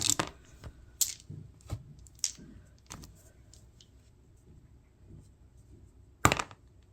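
A blue die, one of a handful of dice, rattles and clicks as it is rolled on a hard surface, with sharp scattered impacts and a final loud knock in an otherwise quiet room.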